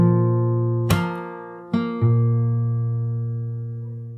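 A short stretch of a song's verse on fingerstyle guitar: ringing open strings, then three plucked notes in quick succession with a low bass note at the end, left to sustain and fade.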